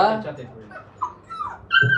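A puppy whimpers and yips in short, high whines, with a louder squeal near the end, over background talking.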